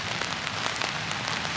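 Rain falls steadily on a wet day in Pleasant Valley, a close, dense patter of drops landing on surfaces, with no voices over it.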